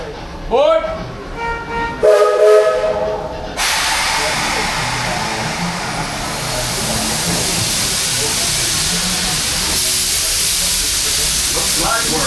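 Steam train of the Walt Disney World Railroad leaving the Fantasyland station for Main Street, U.S.A., with a loud sustained steam hiss and rolling rail noise after brief announcements and voices at the start.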